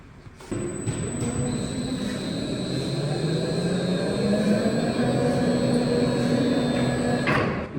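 A freshly assembled MAN D2866 diesel engine starts after a short quiet moment and keeps running with a loud, steady rumble and high whine that rises slightly in pitch, close by, with no talking.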